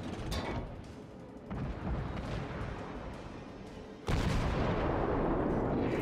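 Warship salvo in World of Warships, a heavy booming blast of all guns at once followed by a loud, sustained roaring rumble that swells sharply again partway through.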